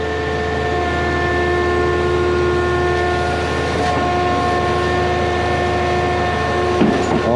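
A vacuum truck's engine runs hard at full revs with a loud, steady drone of strong tonal hum, close by, as the truck clears a stuffed-up boom. A brief thump comes near the end.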